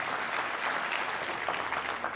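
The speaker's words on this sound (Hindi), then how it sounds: "उनके लिए भी एक तालियां होना चाहिए" Audience applause at a ceremony honoring contributors, a steady wash of clapping from a crowd at moderate volume, continuous throughout.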